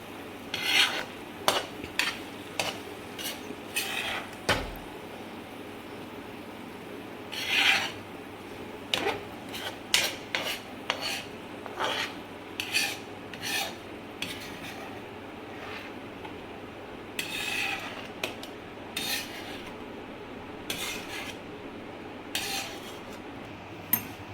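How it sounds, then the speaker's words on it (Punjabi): Bitter gourd stir-fry scooped from a pan onto a plate, a quiet series of irregular metallic scrapes and clinks of a utensil against the pan, spaced throughout with soft rubbing between. "ਹੁਣ ਆਪਾਂ ਇਹਨੂੰ ਪਲੇਟ ਦੇ ਵਿੱਚ ਕੱਢ ਲੈਨੇ"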